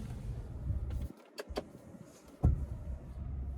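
The electric rear sunshade motor in a 2018 Toyota Avalon Limited hums faintly inside the cabin, a low whirring run with a few soft clicks and a thud near the end, heard alone without talking.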